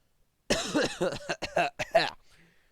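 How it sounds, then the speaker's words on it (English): A burst of repeated harsh coughs in quick succession, close and fairly loud, trailing off into a short breath. "I'm coughing"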